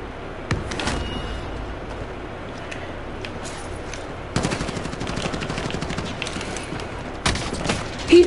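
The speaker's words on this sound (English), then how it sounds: "I'm shooting at him" Gunfire from a first-person shooter video game, with dense rapid bursts running steadily throughout and louder volleys at the start, middle and end, close and loud.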